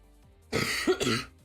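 A single throat-clearing cough, close and fairly loud, in two quick bursts lasting about a second, with no other sound around it.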